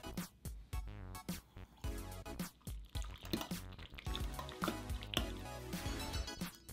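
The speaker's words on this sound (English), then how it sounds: "Pour it in." Liquid jello is poured into a mold, with a run of wet dripping and splashing plops in an uneven rhythm, close and fairly quiet.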